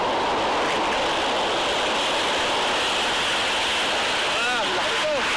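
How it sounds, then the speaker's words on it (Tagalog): Steady broadband rush of surf and breaking waves at Ruby Beach on Washington's Olympic Peninsula fills the whole stretch, with a person's voice briefly calling out near the end. "Ang laki na along parating"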